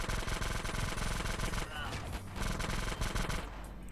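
Rapid video-game gunfire from GTA San Andreas, dense repeated shots in fast bursts, loud and close, with a brief lull midway before the firing resumes.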